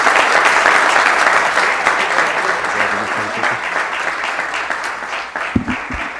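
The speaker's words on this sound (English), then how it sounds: "How about another round of applause for these Santa Ana boys done good." Sustained applause and cheering fill a city council meeting chamber for local Santa Ana barbers, steady and fairly loud throughout, tapering slightly toward the end with a few louder claps near the close.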